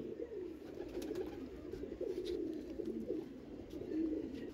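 Pigeons, among them a female, coo continuously in the Mirpur Shahid Smriti pigeon loft, a low rolling chorus of overlapping calls with no talking.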